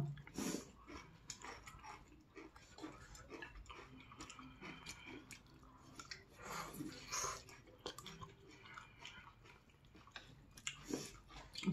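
Someone chews squid ink curry and seafood noodles close to the microphone, with quiet wet bites and smacks repeating irregularly and occasional soft talk in the background.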